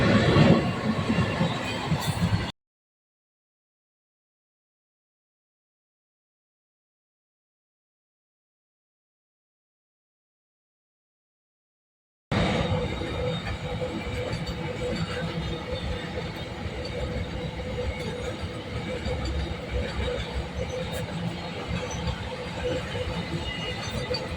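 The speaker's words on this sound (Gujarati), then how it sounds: "તમે જોઈ શકો છો મિત્રો ટ્રેન આવી ગઈ છે।" A train arriving near Tappar village in Kutch, with a loud rumbling roll of railcars and faint wheel squeals, broken by a long stretch of silence before the heavy clatter resumes and continues steadily.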